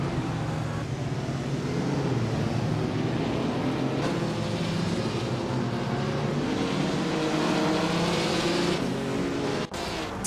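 A race car engine drones loudly and steadily during a race while the car overtakes another, with a continuous roar and shifting engine tones that hold for the whole stretch and a sharp click near the end.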